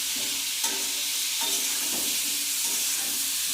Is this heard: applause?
no